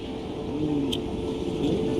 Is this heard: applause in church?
no